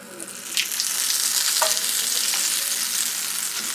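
Salmon pan-frying in melted butter and olive oil, a steady close sizzle and crackle with brief louder spits, with no voices.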